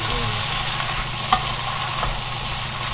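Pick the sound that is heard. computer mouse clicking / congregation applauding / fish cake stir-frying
fish cake stir-frying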